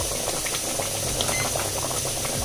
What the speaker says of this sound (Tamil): சாம்பார் கொதிச்சிருச்சு ஆஃப் பண்ணிட